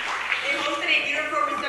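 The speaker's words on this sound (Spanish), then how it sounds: "Un buen aplauso." Audience applause at a Los Angeles City Council meeting, a steady, dense wash of many hands clapping at moderate distance for nearly two seconds, with a faint voice mixed in.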